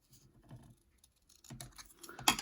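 Crisp snipping of scissors through paper, a few quick close cuts with soft rustling between them, no voices.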